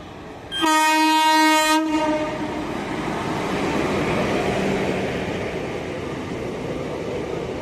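Yercaud Express train arriving at a station, its horn blaring in one loud sustained blast of about a second, followed by a steady rumbling roll of the passing train.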